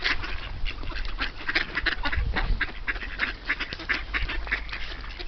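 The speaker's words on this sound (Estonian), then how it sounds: "Oh, vaene part seal taga." Ducks quack repeatedly while being fed by hand at a pond in Rapla, a busy, continuous chorus of overlapping calls close by with a steady low background rumble.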